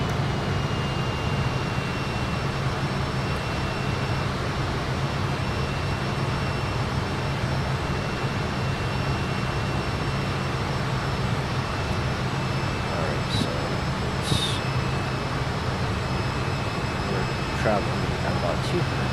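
Fokker F28 jet engines in Microsoft Flight Simulator hold a steady, even drone as throttle is reduced during a scenic flight over the Bahamas, with a brief higher whine near the end and no speech over it.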